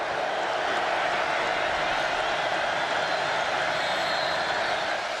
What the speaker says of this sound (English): Well, the crowd got loud.